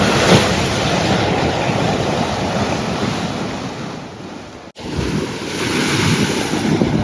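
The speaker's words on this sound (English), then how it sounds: "The waves are pretty crazy here." Big ocean waves crash and wash onto a black sand beach on Maui's Road to Hana coast, a loud continuous surf roar with wind buffeting the microphone and a brief dropout midway.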